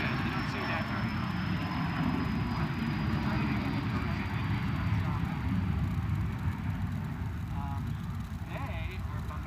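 A small airplane doing a touch-and-go at an airport, a steady broad engine roar holding throughout at moderate distance, with people talking nearby over it.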